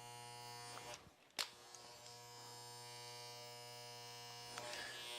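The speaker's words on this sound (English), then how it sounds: "we're going to take the clipper upside down" An electric hair clipper buzzes steadily and close throughout while cutting hair for a classic pompadour, with a brief rustle and knock near the start.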